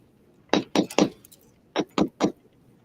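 A recycled glass piece is set into a dapping block, giving six sharp clinks and taps in two quick clusters of three, close and crisp against a quiet background.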